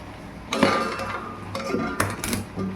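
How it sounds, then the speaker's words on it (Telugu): A cooking pot holding moong dal cooked with tomato is lifted off a switched-off stove, giving a few metallic clanks and scrapes of cookware against the burner with no talking. "స్టవ్ ఆఫ్ చేసినాక ఇలా దింపేసేయండి"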